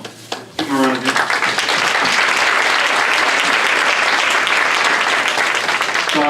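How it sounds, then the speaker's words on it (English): After a brief spoken phrase, an audience at a candidates forum bursts into loud, sustained applause, a dense wash of clapping that holds steady for several seconds. "Give them a round of applause."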